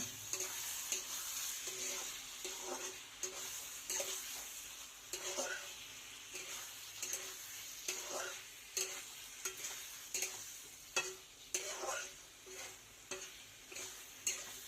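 Masala being sautéed in a pan for a fish curry with brinjal and potato, with faint frying hiss under a series of rhythmic stirring scrapes and taps, fairly quiet throughout.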